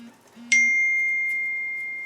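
A phone gives a single bright notification ding that rings out and slowly decays, preceded by a brief low tone in a quiet workshop.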